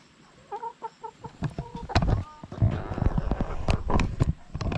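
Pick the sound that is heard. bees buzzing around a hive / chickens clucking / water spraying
chickens clucking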